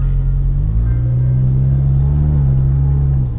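A Suzuki Swift GT2 with an aftermarket exhaust idles and is revved, a deep steady exhaust rumble that rises slightly in pitch and then settles, close by.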